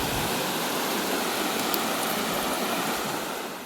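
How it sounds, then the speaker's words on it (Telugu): A waterfall in Norway pours down in a loud, steady, close roar of rushing water that fills the whole stretch without a break, fading slightly at the end, with no voices. "ఇక వాటర్ ఫాల్స్ వాటర్ ఇక్కడికి వస్తున్నాయి"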